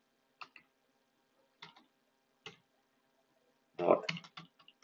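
A command is typed on a computer keyboard in a few sparse, quiet clusters of key clicks, ending in a faster burst of taps; no one talks over them.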